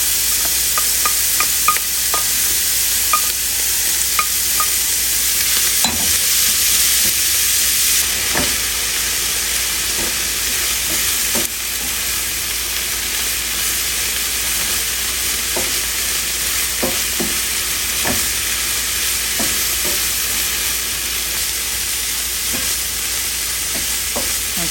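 Sausage, onions and peppers fry in a pan with a broad, constant hiss, while occasional scrapes and clicks of a utensil stirring them ring out close by.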